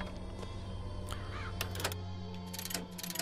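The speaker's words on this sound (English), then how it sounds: "Crows stun and damage enemies." Crows caw in Bioshock Infinite, scattered harsh calls and flapping bursts over a loud, steady game hum and clatter, with no voices.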